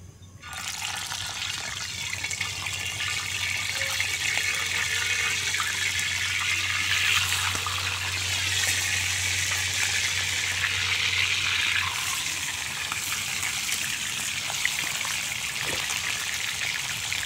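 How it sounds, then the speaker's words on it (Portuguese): Fish frying in hot oil at a riverside in the Amazon, a steady loud sizzle and bubbling that runs continuously throughout, with a low hum underneath for most of the stretch. "eu vou botar o peixe aqui pra ir fritando aqui"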